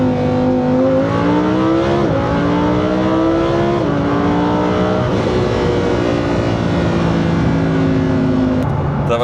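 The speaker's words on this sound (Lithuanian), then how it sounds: "Tai pažiūrėkit, kiek sūkia, kai aukštas sūkis variklis." A Lamborghini Huracán VOS performance engine revs hard at high rpm, its loud, strained harmonic whine climbing and dropping through repeated gear-like sweeps over roughly nine seconds, close and dominant throughout.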